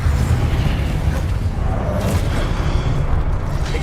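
Confringo blast spell explosions in the video game Hogwarts Legacy, a dense continuous roar of booming low rumble with crackling debris, loud and sustained throughout with no pauses.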